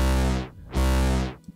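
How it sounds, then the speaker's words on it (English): Dubstep growl synth made in Vital, with its filter cutoff automated by an LFO, sweeping twice in two loud, distorted, vowel-like swells that rise and fall, with a brief click at the end. "Then you can just add a filter. And then you can automate the cutoff with the LFO one as well."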